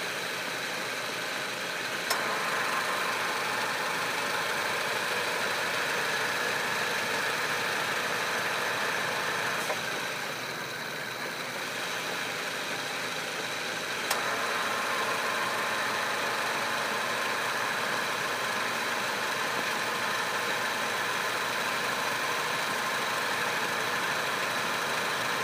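A 2005 Chevy Cavalier with a 2.2 engine idling steadily for the whole stretch, an even, continuous hum recorded up close with no talking.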